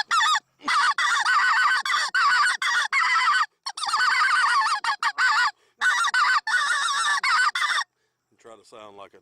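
Someone blows a goose call, honking hard and aggressively to imitate a large flock of geese. The honks are loud, close and come in rapid, choppy bursts for several seconds, with brief pauses between them, and a faint voice follows at the end.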